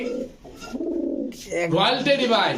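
Pigeons coo in a fancy pigeon loft of imported Royal and high-flyer breeds, the repeated throaty calls overlapping and rising in the second half, with some background voices mixed in.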